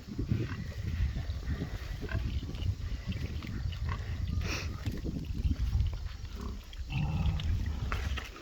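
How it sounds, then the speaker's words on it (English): Berkshire pigs on the ground grunt and snuffle steadily and fairly close, low rumbling sounds running throughout with a few louder bursts. "Our Berkshire pigs."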